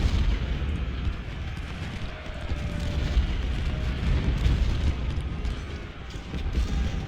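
Cannon and artillery fire in the Ultimate General: Civil War game, Battle of Shiloh, roll as a dense continuous rumble of distant booms and crackling volleys, steady and loud throughout with no voices.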